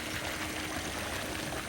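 Water pours steadily into a garden fish pond, a continuous close splashing and trickling wash with no pauses and no voices.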